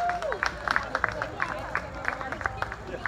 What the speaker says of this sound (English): Give her a nice big round of applause